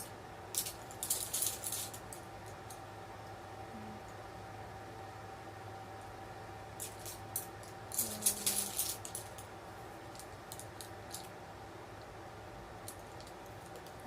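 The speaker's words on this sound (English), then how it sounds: "sorry if you hear me rustling through my brushes. I have quite a few of them just shoved in my little brush bag." Makeup brushes rustle and clatter inside a small, crowded brush bag, with two short bursts of close, crisp rattling separated by quiet pauses.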